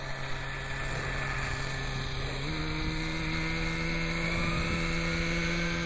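A .18 nitro RC helicopter engine runs at a raised idle, a steady buzzing drone with a whining rotor tone that steps up in pitch partway through, heard alone outdoors.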